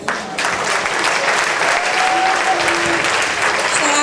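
Sustained, dense applause from an audience at a school graduation ceremony marking the last bell, loud and steady from start to finish after a brief quieter opening.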